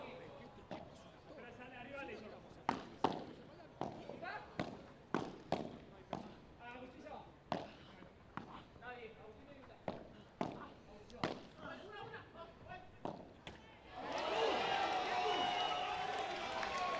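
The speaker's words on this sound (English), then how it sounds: "you can hear the crowd" At a tennis final in Miami, sharp ball strikes echo through a stadium under a commentator's voice, then the crowd erupts into a loud, sustained roar of cheering.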